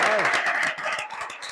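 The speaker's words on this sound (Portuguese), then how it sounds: "ayúdenme a regalarles un muy fuerte aplauso a mi cerca" An audience claps and cheers at a capoeira gathering, dense applause that gradually thins toward scattered claps, with voices mixed in.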